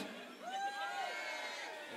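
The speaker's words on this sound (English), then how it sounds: "Can you give me a cheer if you were at the first event?" An audience at a live worship celebration event cheers and whoops for a brief moment, with high rising and falling shouts over a soft crowd wash.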